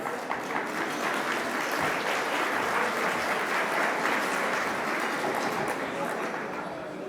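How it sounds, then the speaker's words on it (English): Audience applause at the National Gathering on Unmarked Burials in Montreal, a steady wash of many hands clapping that holds evenly for several seconds before easing slightly at the end. "Please put your hands together."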